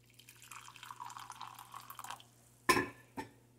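Fresh-brewed Colombian French press coffee pours from the carafe into a cup, a trickling stream of liquid followed by a couple of sharp clinks near the end, heard close and alone.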